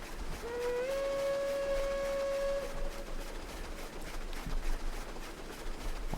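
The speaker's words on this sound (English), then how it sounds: "Let's give him a whistle to acknowledge the signal." A steam locomotive on a three-foot narrow-gauge line in a train simulator video game sounds one sustained whistle blast of about two seconds over a steady rumble of rolling rail noise that carries on after the whistle stops.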